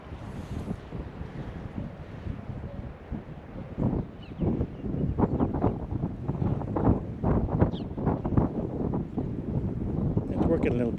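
Wind gusting outdoors around a windsock, a steady rushing buffet against the microphone that swells and fades unevenly throughout.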